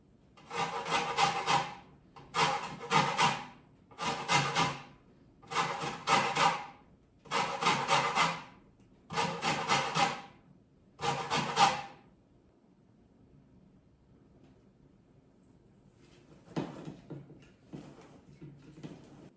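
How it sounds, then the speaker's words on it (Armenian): A lemon's peel is rasped against a kitchen grater for zest in seven close, even strokes with short pauses between, then quiet with a few faint scrapes near the end. "հիմա մեզ հարկավոր է 1 կիտրոնի կեղևը մաքրել, քերել և հյութը հանել"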